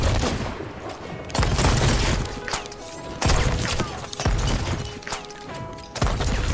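Blunderbuss shots in the pirate game Sea of Thieves come as loud, booming blasts, several heavy bangs spaced a second or two apart amid chaotic battle noise.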